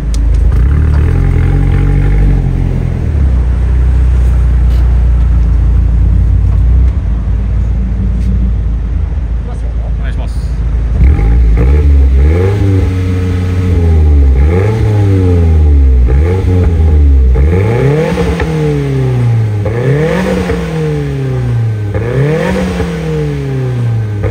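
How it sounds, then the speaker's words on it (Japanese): A Nissan S15 Silvia's SR20DE engine idles, then revs hard again and again through its aftermarket exhaust in repeated rising and falling bursts, loud and close, each rev climbing sharply before dropping back. "じゃあマフラーサウンドチェックいきますか。"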